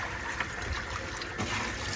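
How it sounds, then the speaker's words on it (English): Jasmine rice being rinsed in cold water, a steady close trickle and swish of water running continuously throughout without speech. "Cold water, and rinse it a number of times."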